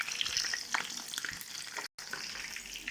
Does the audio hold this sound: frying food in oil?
yes